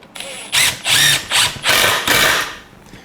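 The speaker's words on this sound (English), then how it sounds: "Got your screw and your drill motor." A power drill runs in five short bursts, driving screws into a precut 4Runner kit, each whir loud and close with brief pauses between them.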